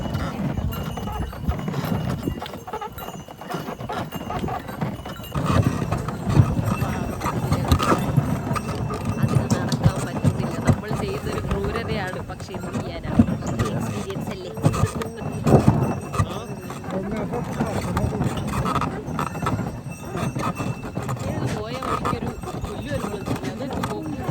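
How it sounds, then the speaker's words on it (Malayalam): A horse ride in winter around Cavnic, Romania: steady hoof clip-clop from a slow-moving horse continues throughout, close and fairly loud, with people talking over it. "ഈ കുതിര ഭയങ്കര സ്ലോ പറ്റുന്നില്ല അതിന്"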